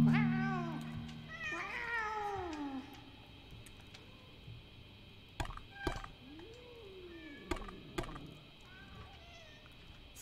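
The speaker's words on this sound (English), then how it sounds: "It's a cat toy here." Cat meowing from a toy in the cyberpunk ghost-story game Sense: a couple of drawn-out, wavering meows at the start, then a softer meow mid-clip, with scattered knocks and thumps, fairly quiet overall.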